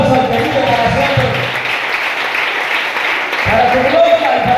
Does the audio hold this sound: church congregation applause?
yes